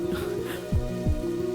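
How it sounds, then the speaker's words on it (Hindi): Steady rain falls through a dramatic film scene, a continuous soft hiss of drops layered over sustained low music, with two deeper swooping thuds cutting in partway through. "तुम इस तरह बारिश में भीग रही हो"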